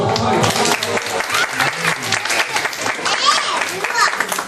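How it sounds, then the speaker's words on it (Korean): Church congregation at a family worship seminar bursts into sustained applause, dense clapping filling the room for several seconds with a voice speaking over it. "자, 박수하겠습니다. 박수."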